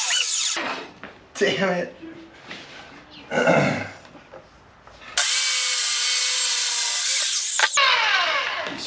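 Power saw cutting an MDF board, with several short loud bursts of whining blade and a long sustained high-pitched cut near the microphone, separated by pauses where someone speaks.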